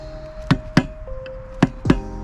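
A chisel struck into wood while hand carving, four sharp, close knocks in two pairs over a quiet background.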